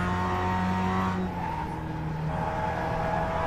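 Mazda MX-5 race car cornering on the Charlotte road course in iRacing, a steady engine drone that dips slightly as it eases through the bend, continuous and close with no talk.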